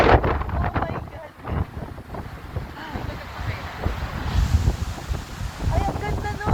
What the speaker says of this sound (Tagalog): Kita niyo ba yung galaw ng hangin? Gagalaw ng puno.